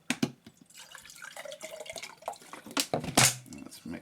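Water rinsing through homemade charcoal, heard as splashing, pouring and dripping in irregular bursts, close and moderately loud, with brief scraps of a voice mixed in.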